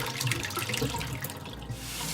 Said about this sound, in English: Now you should rinse the tapioca pearls underneath cold water until they are cold to the touch.